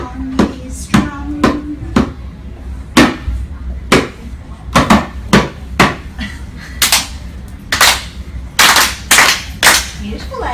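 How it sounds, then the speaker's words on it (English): A drum being struck by a child in a music class, a steady run of loud, close hits with uneven rhythm, some grouped in quick pairs, with no voices over the beats. "Listen to the Indian play upon his drum."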